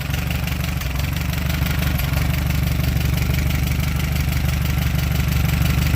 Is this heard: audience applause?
no